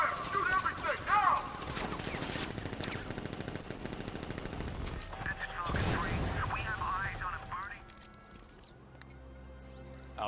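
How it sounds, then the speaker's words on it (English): Automatic gunfire in Batman: Arkham Knight rattles out in dense bursts and volleys, mixed with game effects and occasional voices speaking over the shooting. "Open fire! Shoot everything, now!"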